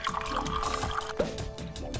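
Water and detergent splashing and pouring for washing, a continuous liquid sound with a brief gurgle partway through, moderately close, with no talk over it.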